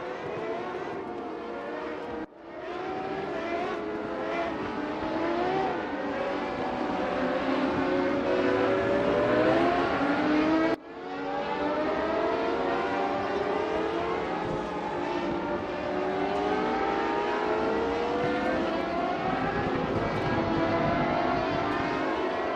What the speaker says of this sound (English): Anytime now those engine revs should pick up and we should be underway again.